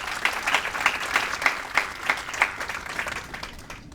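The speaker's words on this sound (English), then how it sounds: "So let's give them a round of applause." A small crowd at an outdoor opening ceremony for a botanic garden claps in scattered, rhythmic applause, with individual claps standing out at a moderate distance for a few seconds.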